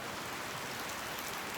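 Steady rain pours down in Neelam Valley, Kashmir, a dense, even hiss that holds without a break and with no voices over it.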